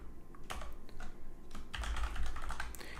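Keystrokes clatter on a computer keyboard as commands are entered at a command line, a steady run of close, light clicks with a few louder taps, no voices over it.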